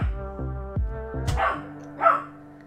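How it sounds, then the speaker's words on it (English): A dog barks repeatedly in a sharp rhythmic series, then lets out a couple of higher yips and whines, fairly close and clear with little else around. "My apologies if you guys can hear my dog going off in the background."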